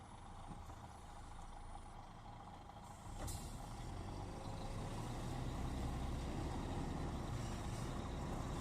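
A heavy semi-truck engine rumbles and revs up at night as the truck fails to pull away, with a sharp hiss of an air brake release partway through, heard from nearby outdoors.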